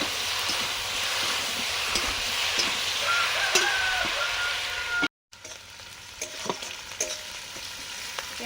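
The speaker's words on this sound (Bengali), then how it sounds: "পেঁয়াজটা ভাজা হচ্ছে, আর একটু ভাজা হবে।" Onions fry in a pan with cumin paste as they are stirred, a continuous sizzle overlaid with scraping and clinking of the spatula, broken by a brief cut to silence before the stirring resumes.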